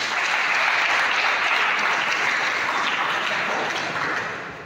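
Dense, steady applause from an audience at an Independence Day party, loud and sustained throughout before tapering slightly at the end.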